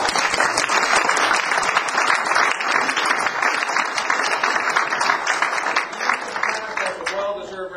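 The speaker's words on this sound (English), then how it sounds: "a well-deserved round of applause for them" Dense, sustained clapping from a crowd at a Canadian political by-election rally in Markham, Ontario, steady and loud throughout before tapering off near the end.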